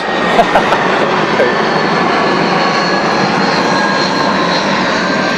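An aircraft passes overhead with a loud, steady broadband engine roar that holds constant throughout, close and dominant, with no talk.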